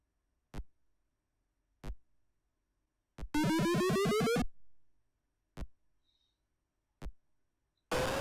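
A door on the opposite wall opens and closes slowly in the Amstrad CPC game Total Eclipse II. Sharp thuds sound at regular intervals, broken by a loud, warbling electronic buzz, all against near silence.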